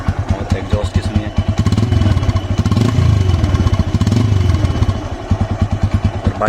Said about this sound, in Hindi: और एग्जॉस्ट की सुनिए,